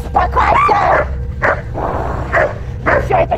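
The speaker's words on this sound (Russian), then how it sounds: "Все это чертова собака!" A dog barks in a string of loud, close bursts, several sharp woofs with short gaps between them, over a low background rumble.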